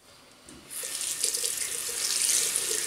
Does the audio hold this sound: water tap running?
yes